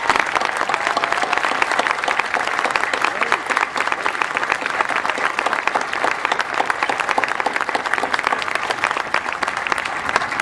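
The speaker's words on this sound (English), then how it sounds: "please stand and receive a round of applause from us for the love and support that you've" Sustained, dense applause from a university commencement audience honoring mothers at a 2006 graduation, steady and even throughout with no pauses, filling the hall with a broad crowd clapping texture.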